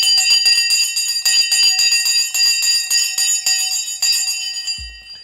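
A bright electric bell rings continuously for about five seconds to start a stock market race, loud and close with a rapid metallic trill, then cuts off.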